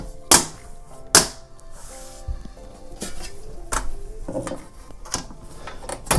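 Panels of a Dan A4 H2O mini-ITX PC case clack and snap back into place, with two sharp close knocks early on followed by quieter scattered taps, clicks and handling rustle.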